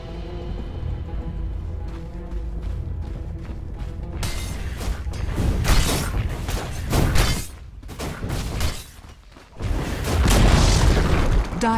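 A tower being destroyed in Dota 2, heavy booming crashes and rumbling debris that build into a loud, sustained collapse with breaks, mixed with mechanical clatter and game effects.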